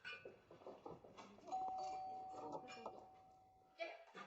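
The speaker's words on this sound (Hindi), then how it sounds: "अपने घर आने पर कौन दरवाजे की घंटी बजाता है?" A doorbell rings at a home entrance, a single sustained electronic tone held for a couple of seconds while people talk over it, with a short second chime near the end.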